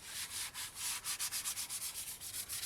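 Rough, tar-spattered motorcycle fairing being rubbed by hand, a close, quiet scratchy swishing in steady repeated strokes, roughly a dozen back-and-forth passes with no talking.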